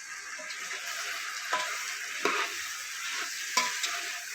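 Chicken pieces fry in a pan coated with dry-roasted cumin, coriander and garam masala for a Telugu chicken pulao, giving a steady sizzle with occasional stirring scrapes at a moderate distance and no talking.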